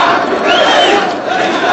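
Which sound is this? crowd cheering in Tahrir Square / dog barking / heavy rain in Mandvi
crowd cheering in Tahrir Square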